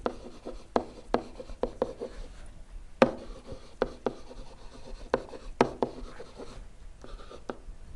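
Pen or marker writing out a math relationship between segments while solving a triangle median problem, a steady run of scratchy strokes with sharp taps between them, close and fairly quiet, with no talking.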